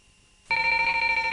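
After a brief quiet moment, an electric bell starts ringing with a continuous rapid metallic trill, loud and close.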